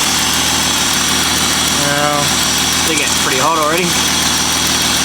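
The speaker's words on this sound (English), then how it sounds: "Yeah, I got a bit of an exhaust leak down here" A VS V6 Holden Commodore idles with an exhaust leak, a steady close rumble and ticking under a voice and short whistling tones.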